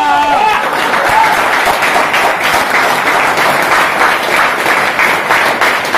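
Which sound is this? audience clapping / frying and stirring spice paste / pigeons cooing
audience clapping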